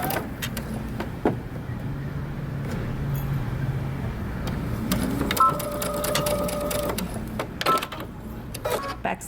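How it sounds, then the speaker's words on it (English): A home sewing machine stitches the side seams of a dress with a 3/8 inch seam allowance, starting with a backstitch. A steady mechanical whir runs under a low room hum, with a few clicks and knocks. "now we're going to sew our side seams, again using 3/8 of an inch seam allowance"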